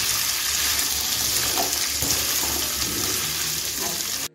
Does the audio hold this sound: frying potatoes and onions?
yes